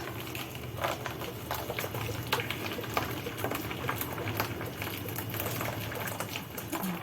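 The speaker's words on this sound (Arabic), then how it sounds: "وهنجيب بقى ميه سخنه زي ما انتم شايفين كده" Hot water poured into a container for soaking turnips and beets for pickling, a faint, steady splashing and bubbling patter that continues for several seconds without speech.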